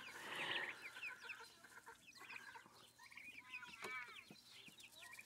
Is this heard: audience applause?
no